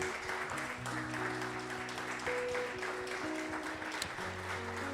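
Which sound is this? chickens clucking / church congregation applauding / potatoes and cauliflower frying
church congregation applauding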